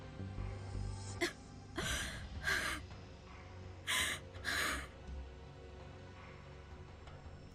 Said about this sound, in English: Moeka gave a painful cough and spit up some stomach fluid mixed with blood